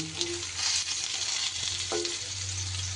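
Pointed gourd (potol) frying in oil in a pan for butter paneer, a steady close sizzle with a few scraping stirs, no voices.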